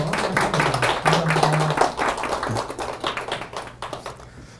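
A lecture audience claps to welcome a guest professor to a real estate special lecture, with a dense flurry of overlapping claps that thins out toward the end while a voice talks over it.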